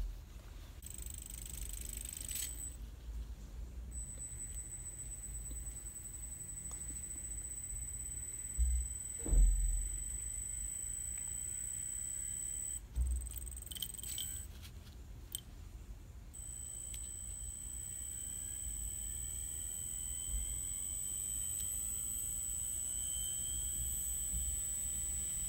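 An old 7200 RPM hard disk motor, driven by an ESC as a drone motor, spins with a steady high whine and hum, broken by a few brief louder bumps partway through.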